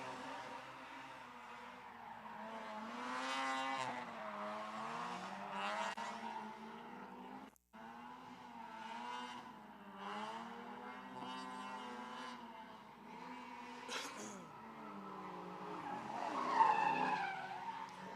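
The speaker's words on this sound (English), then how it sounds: "Jay Hassan hitting the pit with some gusto in that Mustang" A Ford Mustang drifting at Big Indian Drift Pit during a test-and-tune day: sustained loud engine roar and screeching tires over about eighteen seconds, with one sharp momentary cutout midway and a swelling peak near the end.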